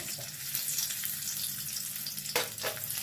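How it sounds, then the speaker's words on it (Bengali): Hot oil sizzles and crackles steadily as slit green chillies and nigella seeds fry close by, with a short louder spatter near the end. "ওই তেলে আমি রান্না করব কাঁচা লঙ্কা দিয়ে দেবো"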